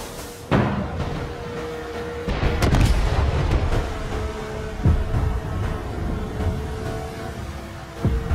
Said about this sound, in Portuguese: Olha só os fogos de artifício. Coisa linda, né?